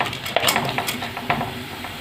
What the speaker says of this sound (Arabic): افضل اشوحه كده شويه قبل ما نحط الشوربه